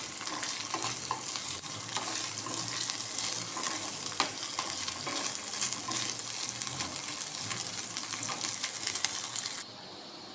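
Dried fish (kollatharu) fries in a pan with a steady crackling sizzle and occasional stirring scrapes, fairly close. The sizzle cuts down sharply just before the end.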